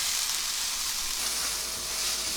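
Mushrooms and onions frying in a cast iron pan, a steady bright sizzle that holds evenly throughout, close and fairly loud, with no talk.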